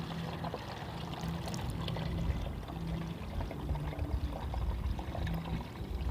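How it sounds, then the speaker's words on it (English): Plain water poured from a container back into a bottle, a steady continuous splashing trickle that stays soft and even from start to finish. "this other half I could just pour back into this bottle"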